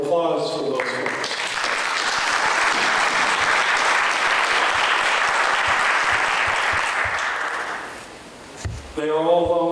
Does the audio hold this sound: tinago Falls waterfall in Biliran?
no